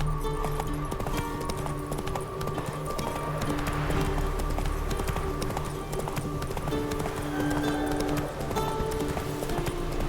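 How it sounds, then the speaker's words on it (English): A horse gallops in the video game The Witcher 3, its hoofbeats drumming in a fast, steady clip-clop rhythm throughout, close and loud over a continuous background bed of game sound. "Run, Roach"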